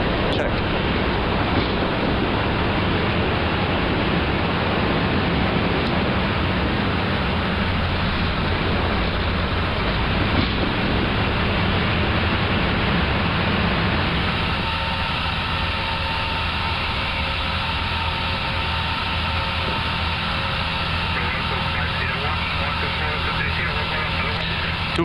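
Loud, dense roar fills the cabin of a World2Fly Airbus A350XWB during its takeoff climb from Madrid, a steady broadband rush that eases slightly and settles into a smoother drone partway through.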